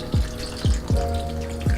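Water with leftover coconut milk is poured into a cooking pot of curry potatoes, giving a bubbly, gurgling splash with four distinct glugging pulses over a steady liquid hiss, close up and without talk.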